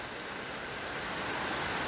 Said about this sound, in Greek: Είναι το κλασικό όγκο βροχής.